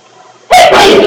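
A single sharp sneeze bursts out of near silence during a board of supervisors meeting, close and loud, with a brief breathy tail.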